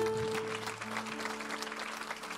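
A church congregation claps to acclaim the Lord at a French-language worship service in Evry. The applause is broad and steady, fairly close, with sustained tones underneath.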